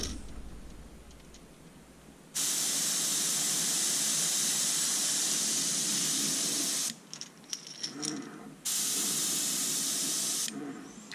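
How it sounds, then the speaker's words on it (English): An airbrush sprays color-shifting paint in light coats, a loud steady hiss in long bursts with short pauses between them, close by and without talk. "very little action on the airbrush, just barely pulling back on it so we can put on light coats"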